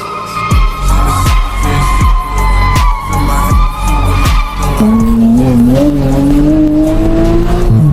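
A car under full power on Vilnius city streets, with repeated sharp bursts and tire squeal in the first half before the engine settles into one loud rising drone.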